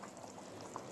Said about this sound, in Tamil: இது ஒரு 10 நிமிஷம் நல்லா கொதிக்க விடுங்க.